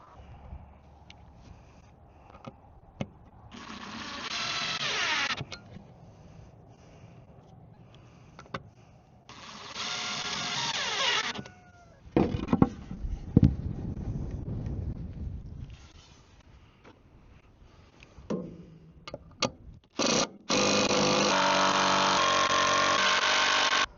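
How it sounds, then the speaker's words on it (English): A power drill drives 4-inch screws into a wooden goat feed trough outdoors, with several loud whirring bursts of a few seconds each, the last one long and steady, amid wind noise and scattered knocks. "Let me try one of these 4-inch screws and see how it does."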